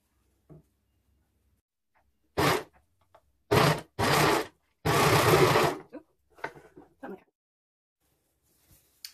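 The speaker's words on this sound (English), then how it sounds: "just sew it on the overlocker" An overlocker serges a strip of fabric onto a king size duvet cover in several loud, close bursts of fast whirring stitching separated by pauses, with soft handling noises afterward.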